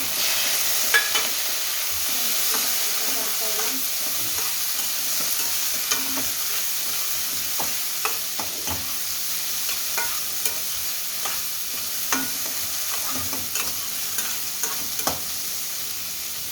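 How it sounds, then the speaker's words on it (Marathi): Chopped onions and tomatoes fry in a pan while a spoon stirs them, giving a steady close sizzle with repeated scraping clicks and knocks and no talking. "तर आता कांदा वगैरे झालाय छान परतून, आपला लाल कांदा परतलाय। आता याच्यामध्ये टाकूया टोमॅटो"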